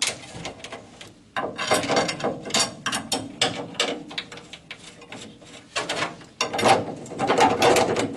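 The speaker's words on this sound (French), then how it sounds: "je lui mets tous les boulons de fixation" Ratcheting wrench clicks in rapid bursts while the fixing bolts are tightened on a part for a Citroën Traction 11B being fitted with a Xantia interior, close and fairly loud, with short pauses between runs.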